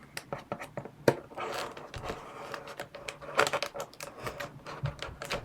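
Scissors snip and slice through packing tape on a small gift box during an unboxing, giving a close run of sharp clicks, rasps and crinkles with no talking.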